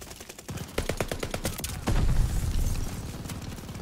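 Rapid bursts of gunfire in the first-person shooter Call of Duty: Vanguard, a dense rattling machine-gun fusillade followed by a heavier, louder volley near the middle that stays loud and close through the end.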